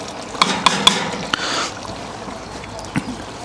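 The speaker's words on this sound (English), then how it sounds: "give it a quick stir" Spoon scraping and stirring smoked beef stew in a pot on a Kamado Joe Classic 2 grill, a few sharp clinks at the start followed by soft swishing and simmering.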